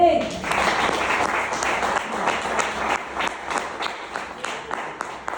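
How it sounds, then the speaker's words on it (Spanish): A church congregation claps for the Lord during a Sunday service, a steady, dense patter of many hands sustained throughout, with a voice speaking briefly at the start. "Denle un aplauso al Señor"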